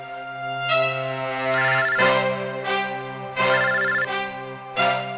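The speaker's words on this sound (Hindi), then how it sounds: "यहाँ पे किसका फोन बज रहा है?" A melodic phone ringtone plays loudly, its short chiming phrase repeating several times with no one talking.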